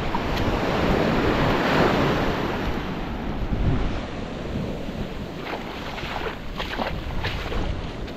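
Fairly large ocean waves wash and roll onto a beach in a steady, loud surf roar with wind buffeting the microphone, no voices present.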